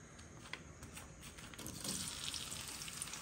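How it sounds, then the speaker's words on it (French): Onions browning in a pan give a faint, steady sizzle that grows slightly louder partway through, with light stirring noises. "Roussir un peu les oignons."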